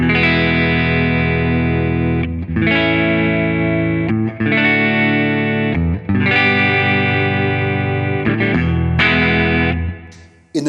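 PRS SE 245 Standard electric guitar with humbucker pickups, all controls on full, played clean: sustained ringing chords and notes, loud and close, with brief breaks between strums and no talking.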